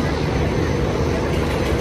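Steady low roar of a passenger launch's engines pushing at full thrust on a river, a loud, continuous rumble with wind noise, and someone talking over it.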